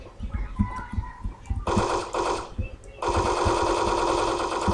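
Rapid automatic gunfire in the online shooter Wolfteam comes in two loud sustained bursts, with a short gap between them and light game effects and clicks underneath.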